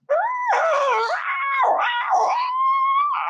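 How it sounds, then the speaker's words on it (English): A harsh, screeching wail during a Dungeons & Dragons tabletop session, rising and falling in pitch in several drawn-out, howl-like bursts that fill the moment continuously and loudly. "I hear it sounds really bad, like bad screeching."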